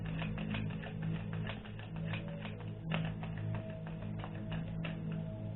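An oracle card deck is shuffled close by, giving rapid, irregular papery taps and flutters over a low steady hum.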